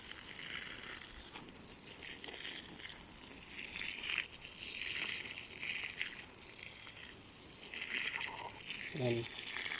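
Water from a garden hose hisses and splashes steadily onto dry soil while watering vegetables, a continuous close gushing spray with someone talking over it.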